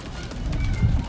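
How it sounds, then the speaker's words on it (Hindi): A Teddy pigeon gives a brief low coo up close over a soft background hum. "टैडी कबूतर है"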